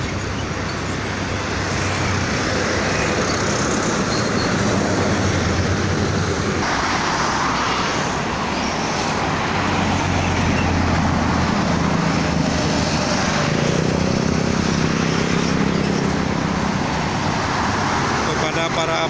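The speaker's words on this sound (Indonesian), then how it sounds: "Mobil-mobil besar ya di belakang." Heavy traffic of large vehicles rumbles along the Jakarta-Cikampek toll road as a constant, loud roadway roar, with someone talking over it.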